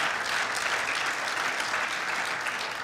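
A church congregation applauds in praise, a dense, steady wash of clapping filling the room without pause, at moderate loudness with no clear voices on top.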